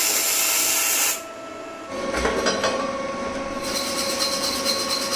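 An ESAB 200i gasless welding machine welds steel angle with a steady, close, crackling hiss and a tonal machine whine. The arc drops off briefly partway through, then resumes.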